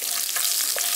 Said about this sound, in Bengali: ফোড়নটাকে হালকা একটু ভেজে নিচ্ছি।